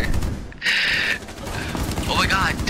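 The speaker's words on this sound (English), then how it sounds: "Watch out for the dude shooting through the wall" Gunfire rattles through a wall in Rainbow Six Siege, a short burst of muffled shots mixed with clatter and a player talking over it.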